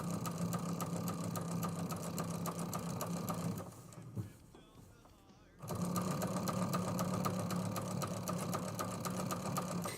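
Steady, rapid mechanical whirring of a sewing machine quilting fabric, loud and continuous, breaking off briefly for a quieter pause before resuming at the same pace.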